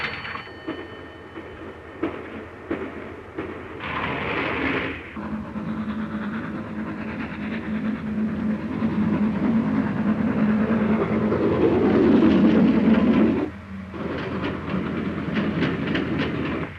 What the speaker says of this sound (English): The train gathers speed